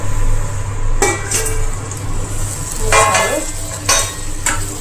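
Spices sizzle in a frying pan for a sangri vegetable dish while a spoon stirs them, with a steady hiss, loud close scrapes and clinks of metal against the pan at irregular intervals.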